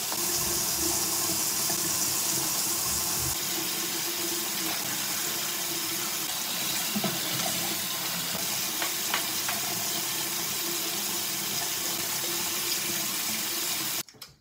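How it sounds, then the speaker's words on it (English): Tap water runs continuously into a sink while someone brushes their teeth, a steady close hiss that goes on unbroken and then cuts off abruptly at the end. "right now I'm gonna brush my teeth"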